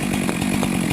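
A chainsaw runs at a lumberjack contest while felling a tree, its engine a loud, steady buzzing drone with a rapid pulsing chatter, close and alone.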